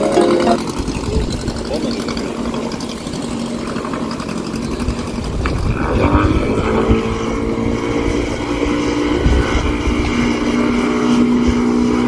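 Speedboat on the Kali river at Karwar, its engine droning steadily and growing slightly louder partway through, with people talking over it.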